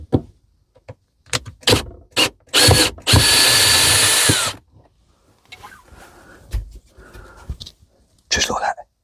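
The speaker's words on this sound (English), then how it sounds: "I've got to take a couple of screws out" Power drill backing screws out of a worktop support during a campervan sink install, heard as a couple of short whirring bursts up close, with quiet talk and handling noises around them.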